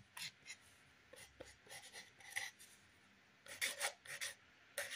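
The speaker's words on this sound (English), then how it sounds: "I'm just gonna write, trust the process." Pen or marker writing by hand on paper during an art session, scratchy strokes in short bursts with pauses, close and fairly quiet, with no talking.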